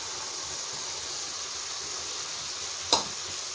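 Tomatoes and peas hit hot masala in a pan, setting off a steady, even sizzling hiss with a single sharp clack partway through.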